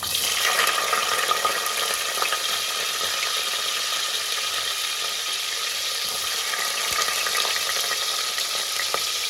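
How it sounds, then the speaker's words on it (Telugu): Onions sizzle steadily in a hot pan for a bean (chikkudukaya) masala curry, a continuous loud frying hiss with occasional soft clicks and no talk. "ఉల్లిగడ్డలు వేసుకోవాలి."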